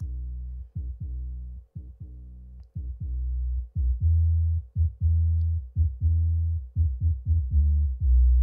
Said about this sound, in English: So the sub bass itself is even getting a high pass filter.